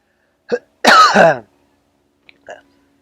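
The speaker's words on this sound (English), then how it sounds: "had to clear my throat there" A man clears his throat once, close and loud, with a short rough rasp and a couple of faint small sounds after, otherwise quiet.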